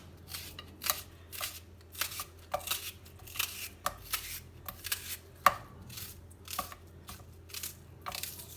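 A knife slices a medium onion on a board, a steady series of crisp close chops at an even rhythm, with no talking.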